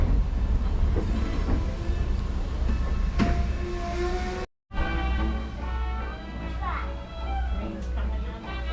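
A Strasburg Railroad passenger train in Strasburg, Pennsylvania rumbles along the tracks with a low steady roll and faint clatter, while children and other passengers talk nearby throughout, with a brief cut midway.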